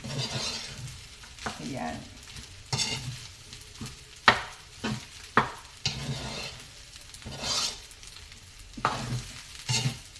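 Homemade fried rice is stir-fried in a pan, with steady soft sizzling broken by repeated scraping, clattering strokes of a spatula at an irregular rhythm, close and fairly quiet, while someone speaks briefly.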